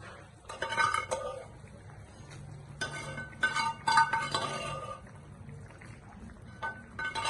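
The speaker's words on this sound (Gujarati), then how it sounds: "હવે આપણે એમાં બધી વડી નાખી દેવાની છે." Soya chunks tipped into a pot of boiling water in a home Gujarati kitchen, with clinks of a metal spoon and pot, clattering bursts of scraping and stirring, and quieter bubbling between, close by.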